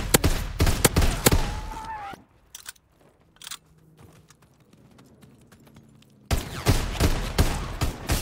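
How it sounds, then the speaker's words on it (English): Shotgun fire in Call of Duty WW2 Zombies, a burst of sharp, loud blasts at the start, a quieter stretch with a few isolated shots, then another rapid volley of loud shots near the end. "Oh god, it's a shotgun."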